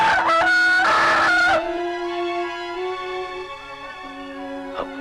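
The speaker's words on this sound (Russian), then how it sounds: "А после второго кукареку Джафара просыпался весь наш аул Орхон." A rooster crows in a mountain village in a 1971 Ossetian film, one loud, close, drawn-out cock-a-doodle-doo with a strong opening, then a long fading tail.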